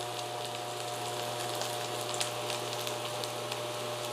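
A thin zucchini pancake (aehobak-jeon), made gluten-free, fries in oil in a pan over high heat with a steady, close, crackling sizzle throughout.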